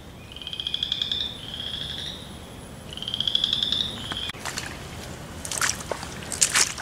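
Frogs croak from a flooded pond in woodland, giving rapid trilling pulses in several bursts. Splashing and squelching sounds follow toward the end.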